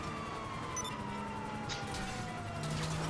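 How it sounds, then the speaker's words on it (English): A faint police siren wails in the distance under a steady low rumble of engine noise, in the video game Grand Theft Auto V. "this one has a working siren"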